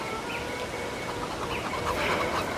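Chickens clucking in the video game Farming Simulator 22, a few soft, scattered calls over a steady low background hum, fairly quiet throughout.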